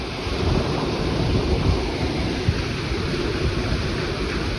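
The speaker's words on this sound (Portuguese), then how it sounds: "É muita chuva." Heavy rain pours down steadily on a rural smallholding in the afternoon, a dense, continuous broadband roar close by with no breaks, carrying on alone without voices.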